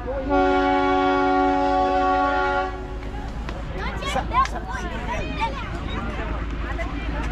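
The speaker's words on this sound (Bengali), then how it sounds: "আর এই যে দেখো ট্রেন চলে এসছে" The Darjeeling toy train sounds a long, loud horn blast as it arrives on its hill line near Kanchenjunga views, then its clanking, rumbling approach continues while people talk nearby.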